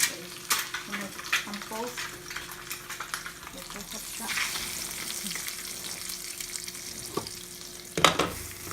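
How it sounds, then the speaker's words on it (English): An egg sizzles and spatters in oil in a frying pan as it crisps at the edges, with a steady crackle and a few sharper pops, close by, while someone speaks briefly over it. "I like my egg to be crispy on the outside and inside are still moist."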